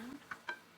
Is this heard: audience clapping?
no